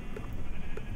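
Sheep bleating in the video game Minecraft, a couple of short, soft synthetic bleats heard alone in a brief moment.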